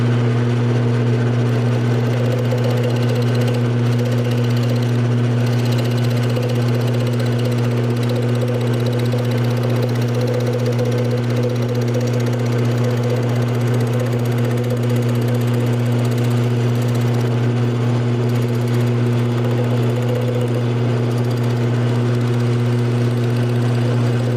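A wood lathe spinning a wooden mallet blank in a woodshop gives a loud, steady motor hum that drones unchanged throughout, with no voices.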